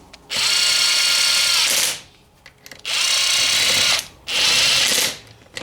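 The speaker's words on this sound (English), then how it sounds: "coated with anti-seize, so I'm gonna run them in now, just till they stop." A power tool drives anti-seize coated crankcase bolts into a stroker engine's lower end, sounding as three loud, close whirring bursts of about one to one and a half seconds each, separated by short pauses.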